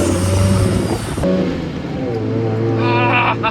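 Mazda RX7 rotary engine through a gear change, loud revving that drops off briefly as the shift happens, then a steady engine drone picks up again, heard from inside the cabin.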